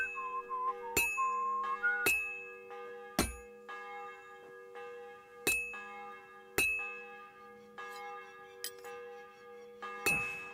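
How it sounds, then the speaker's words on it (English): Bells ring out in the video game Kingdom Come Deliverance 2: about eight bright, resonant strikes at uneven intervals, each hit decaying over a low steady hum. "The bell's ringing for hands the 5th time."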